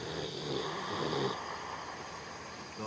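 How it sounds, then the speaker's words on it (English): A man asleep outdoors on an island snores in a long, rasping inhalation, heard close and fairly loud, followed by quieter breathing with no talking. "He's snoring."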